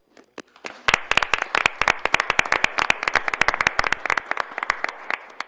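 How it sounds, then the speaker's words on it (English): A small audience at a town council meeting applauds Kevin Quinn, who headed the Heritage Days program, with sharp, distinct claps that start sparse and build into steady, moderately loud clapping from a modest group. "So, Kevin, can you stand up and give you a little applause?"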